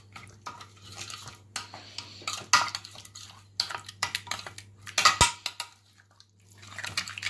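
Yogurt is stirred into a spiced mutton tikka marinade in a bowl, giving intermittent wet scrapes and light clinks of a utensil against the dish over a low steady hum, with no talking.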